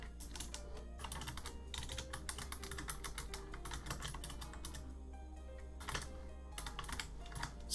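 Rapid typing on a computer keyboard, a steady run of close, crisp key clicks with a few brief pauses, heard alone.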